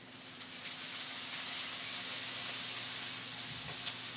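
Vegetables, zucchini and sweet potatoes, frying in bacon grease in a pan, a steady soft sizzle and hiss at low level, with no talking.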